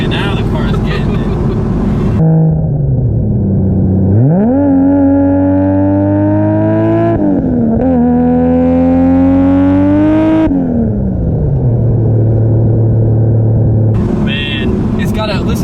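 A tuned 1000+ horsepower Toyota Supra engine from a rebuilt wrecked car revs hard and close, climbing and holding high then dropping back to a throbbing idle, repeated several times, loud and dominant.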